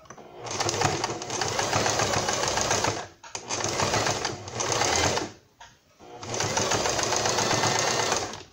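A domestic sewing machine runs a zigzag stitch along the edge of a small Barbie doll dress, with steady rapid whirring bursts that stop briefly between runs, close and loud.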